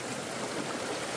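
A river flows steadily, giving a continuous broad rushing wash at constant loudness with no voices.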